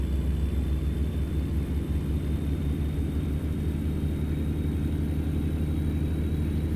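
A heavy-haul truck engine runs at full throttle in American Truck Simulator: a loud, steady, deep droning rumble with a constant pulsing low hum throughout, and no other sounds.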